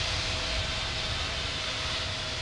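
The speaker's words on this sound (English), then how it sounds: "ready to taxi to runway 27 right." An airliner taxis at London Heathrow in a flight simulator, heard as a steady, loud engine whine and rumble with a faint tonal hum running through it. No voices.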